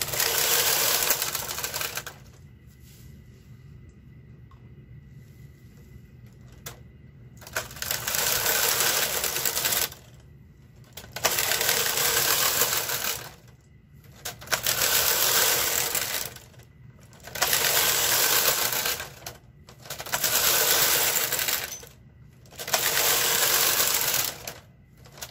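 A knitting machine carriage sweeps back and forth across the bed in repeated rasping passes, about six strokes separated by brief pauses, knitting a double-length pattern up close.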